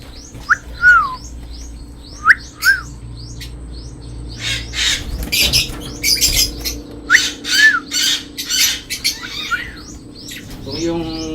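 Small birds let out sharp squawks and rising chirps in scattered bursts, then a flurry of rapid, harsh calls, close and fairly loud.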